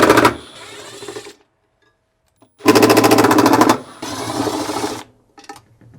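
A ratchet socket wrench with a 10mm socket backing out bolts from a bracket inside a Samsung washing machine, two loud rapid clicking bursts separated by short quiet gaps.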